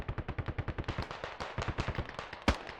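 Rapid, rhythmic bursts of heavy vehicle-mounted gunfire in a video game, a steady 50 cal chatter of about a dozen even shots, then one louder boom as the gunner switches to the 40 mm.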